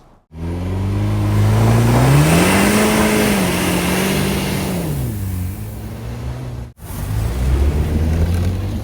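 A 2-door Ford Bronco Big Bend with a Ford Performance tune revs loudly off-road in dirt, its engine pitch rising and falling for several seconds, then a brief cut before the engine drones on.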